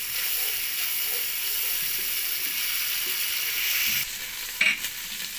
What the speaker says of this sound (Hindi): इसको हमने 2 से 3 मिनट के लिए भून लिया लहसुन अदरक के पेस्ट को।